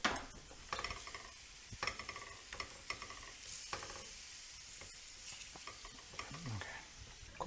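Fish frying in a thick pan, with a soft sizzle beneath intermittent scraping and stirring clicks, quiet and close, with no talk.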